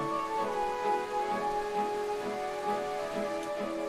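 Steady light rain pattering on a surface, soft and continuous, layered with a sustained tonal ambient drone.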